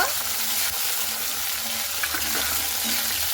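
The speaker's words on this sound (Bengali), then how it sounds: "বিনসটা দিয়ে একটু ভালো মতো করে নাড়াচাড়া করে নেব" Carrots and beans frying in a pan for sabudana pulao, stirred with a steady broadband sizzle and occasional scraping clicks of the spoon, close and continuous with no talking.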